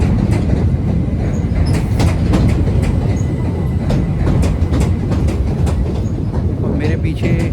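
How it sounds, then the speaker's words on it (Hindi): A train passes near the London Eye, a loud continuous rumble with repeated clacking of wheels over rail joints and faint squeals, steady for the whole stretch. "ट्रेन"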